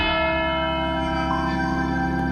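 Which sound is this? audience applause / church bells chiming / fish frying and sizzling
church bells chiming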